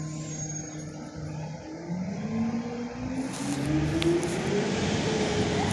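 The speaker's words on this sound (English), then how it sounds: "That's just the garbage truck behind me." A garbage truck works in the background on a city street, its engine droning steadily with a slowly rising whine, moderately loud and continuous throughout, with no talk over it.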